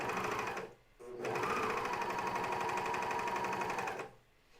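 A coverstitch sewing machine stitching a pajama top runs in two bursts, a fast, even mechanical whirring close by, with a brief pause near the start and a stop before the end.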